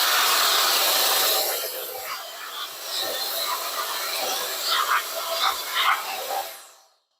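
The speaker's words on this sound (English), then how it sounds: "So you would turn on your air blower just like this." A Roedix R9 cordless air blower runs at full force, blowing dust out of a smoke alarm, as a loud steady rushing hiss that eases slightly, rises in uneven bursts and then cuts off toward the end.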